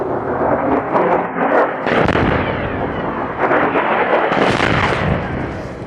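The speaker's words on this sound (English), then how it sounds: "there are aggressive airstrikes on Sana'a International Airport so far, with 2 strikes that hit the runway, the landing and takeoff strip here" Airstrikes hit Sana'a International Airport, a loud, dense wash of blasts and rumbling debris with sharp bursts near two seconds and again near four and a half seconds, sustained throughout and slowly fading at the end.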